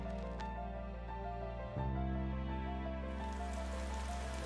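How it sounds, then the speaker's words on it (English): Steady rain falls on a surface in a continuous wash of drops, growing heavier partway through, with a low constant hum underneath and no voices. "Oh great, the rain."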